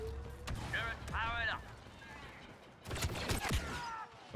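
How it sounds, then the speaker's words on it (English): A flashbang grenade goes off in a video game, with sharp broadband bursts near the start and a rattling cluster of blasts later, mixed with other game sounds and a player's voice. "that's a flashbang"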